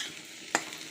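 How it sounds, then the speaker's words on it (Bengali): Potatoes fry in a pan during home vegetarian festival cooking, giving a faint steady sizzle with one sharp utensil clink midway. "এখানে আলু ভাজা হচ্ছে"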